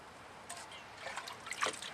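Liquid poured from a pot, a faint trickling stream with small splashes that grows a little louder toward the end, close by and with no talk over it.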